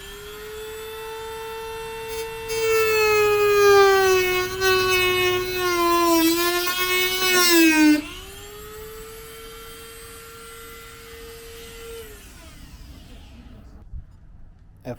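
Dremel rotary tool cutting into a Toyota 4Runner tire swing arm: a loud, high-pitched harmonic whine that climbs and wavers under load, drops as the bit bogs, then holds steady before spinning down, followed by a faint tap.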